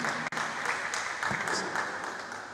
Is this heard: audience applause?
yes